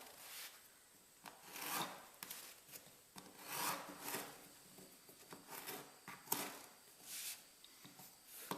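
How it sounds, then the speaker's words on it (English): A serrated bread knife saws through a foam plug in repeated rasping back-and-forth strokes, close and fairly quiet, with brief pauses between the cuts. "If the foam you have is thicker, you can cut it with a knife. A serrated bread knife works well."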